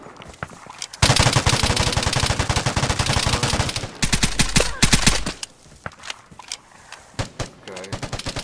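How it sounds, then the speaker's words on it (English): Gunfire in the video game Vigor comes in loud rapid automatic bursts, one long sustained volley followed by a heavier burst, then scattered single shots and short strings, with a voice talking over it. "Oh god, I'm getting shot from everywhere."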